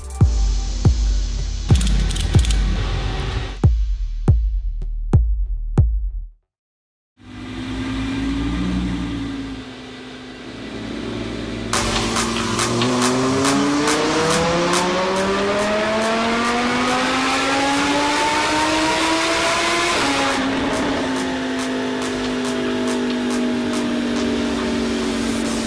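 A Lamborghini Huracan LP610 with a Kline Valvetronic exhaust on a dyno, sharp throttle blips first, then after a brief silence a loud sustained run climbing steadily in pitch with crackling pops before dropping back.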